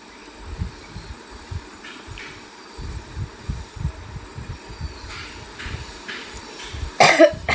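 Someone coughs, with a short harsh burst near the end of a quiet kitchen stretch in which faint low thumps and background noise run throughout.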